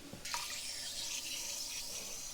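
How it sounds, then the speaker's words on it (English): Water flows steadily into an open toilet tank after the supply is turned back on, a continuous hissing rush of running water, close and even throughout with no talk over it. "I'm going to turn the water back on and see what the water flow looks like."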